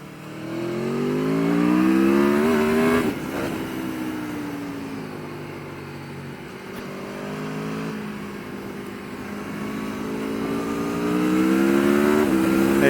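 An Aprilia Tuono 1100 Factory motorcycle pulls hard on a country road. Its loud, close engine note climbs in pitch, breaks sharply at a quick shift, then rises again through sustained acceleration.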